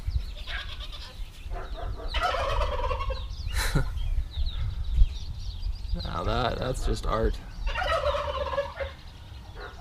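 Turkeys gobble in bursts near a bladesmith's forge, several rattling calls at medium distance with a voice talking between them.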